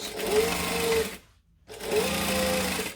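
Domestic sewing machine backstitching a seam on a sling bag, two loud steady motor-driven stitching runs separated by a short silent pause, close and alone.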